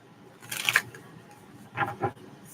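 A deck of tarot cards is shuffled in two quick bursts of riffling and flapping, close and quiet, separated by a short pause.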